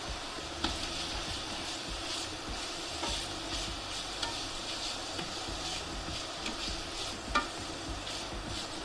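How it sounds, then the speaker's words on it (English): Butter melts and sizzles in a pan of browned sausage being made into sausage gravy, with steady frying crackle and occasional scraping stirs and light clinks from the utensil throughout. "what I want to do now is just add in my butter and get it melted"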